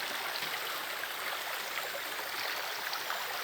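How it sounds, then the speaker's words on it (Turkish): A stream of water flows in a steady, unbroken rush with dense broadband hiss, heard close and fairly loud with no voices over it. "Öyle bir dere."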